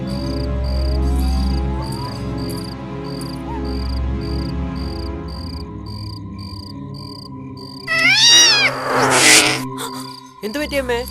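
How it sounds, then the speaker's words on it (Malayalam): At night, a chorus of crickets and frogs trills steadily, then a cat lets out a few drawn-out, wavering meows near the end, close and fairly loud. "ഒരു പൂച്ച കരയുന്ന പോലെ."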